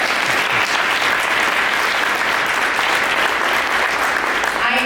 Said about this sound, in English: how many of us want to give Johnny a big round of applause